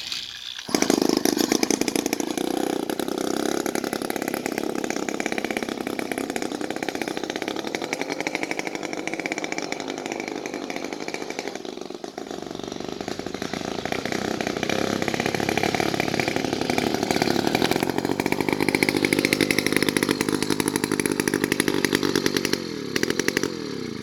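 A motorbike engine runs steadily at close range, its buzzing drone holding fairly even and sagging slightly midway before picking back up, loud and alone for the whole stretch.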